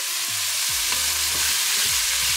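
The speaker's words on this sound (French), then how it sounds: "Et on mélange tout ça." Carrots and a bouquet garni sizzling in a hot pan, with a steady loud frying hiss and repeated scraping strokes of a utensil stirring through them.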